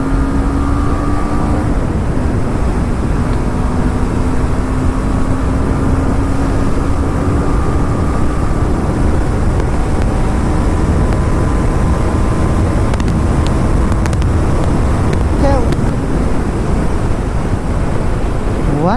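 A motorcycle racing at high speed, past 140, on a four-lane highway: a steady engine whine that slowly climbs in pitch, buried under loud, constant wind roar.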